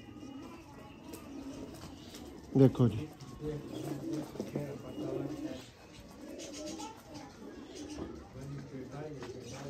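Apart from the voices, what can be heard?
pigeons cooing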